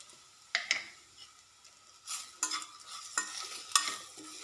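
Bitter gourd curry being mixed in a pan, a few close, separate scrapes and clacks of the spoon against the pan over a faint sizzle.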